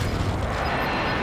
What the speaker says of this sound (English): Marking target for airstrike.